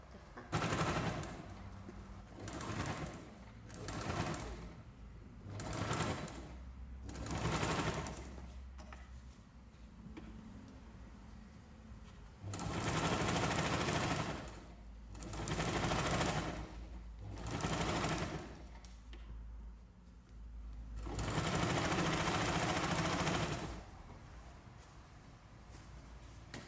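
A sewing machine stitches a puffy iPad sleeve case in repeated bursts of rapid mechanical rattling, several runs of a few seconds separated by short pauses, close and clear.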